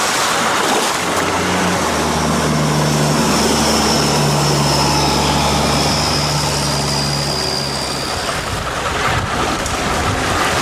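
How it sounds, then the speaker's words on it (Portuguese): Long-tail boats with powerful motors speed through Thailand's klongs, a loud, steady engine roar mixed with rushing water that rises and then fades away near the end. "das barcas tradicionais aos barcos alongados e com motores potentes"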